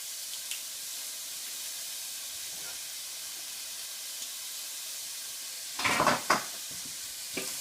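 Steady hissing sizzle of onions and garlic frying in a pan, with a brief burst of scraping and clatter from stirring near the end.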